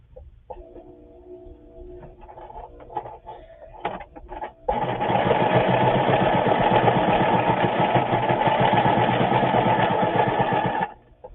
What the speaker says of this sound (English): You see my sewing machine? Can you see what I'm sewing on? Hold on, let's see if I can, there. I'm sewing on a piece of paper.